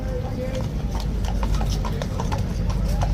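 A horse of the King's Guard clip-clops along a road, its hooves striking in a steady walking rhythm amid a busy crowd of tourists, with people talking loudly throughout.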